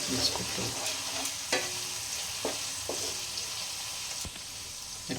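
Spices and turmeric are stirred and mixed in a hot frying pan while cooking dhaba-style egg dal tadka, with a steady close sizzle broken by repeated scraping knocks of the spoon against the pan.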